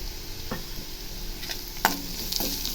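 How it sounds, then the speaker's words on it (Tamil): A papad mixture is stir-fried in a pan, with a soft sizzle running underneath. A few sharp scrapes and clinks of the spatula against the pan land at irregular moments. "நம்ம எல்லாத்தையும் ஒன்றா மிக்ஸ் பண்ணி நல்லா ஃப்ரை பண்ணிடணும்"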